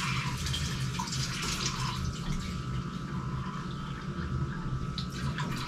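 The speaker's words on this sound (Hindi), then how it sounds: "थोड़ा सा पानी डालेंगे," A little water is poured into pakora batter, making a continuous soft trickle and splash at close range, moderately quiet and steady throughout, with no talking.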